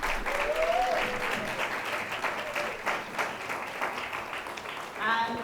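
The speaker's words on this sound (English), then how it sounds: "Join me again in giving a round of applause to Mr. Taylor." Listeners give a round of applause after a public lecture on sexual offences. The clapping is fairly soft and roomy, fading slightly over several seconds, and brief voices surface at the start and near the end.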